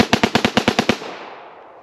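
Two 1911 pistols in .45 ACP fired dual-wielded at close range, nine sharp loud shots in a fast even burst lasting under a second, followed by a fading ring.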